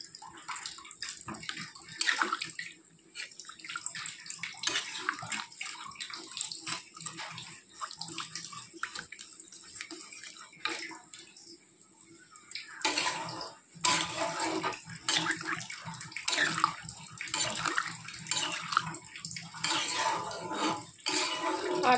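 Water poured into a pot of thin chicken curry, a steady splashing trickle near the mic with faint clinks of pots and utensils, swelling louder toward the end and briefly under a soft voice.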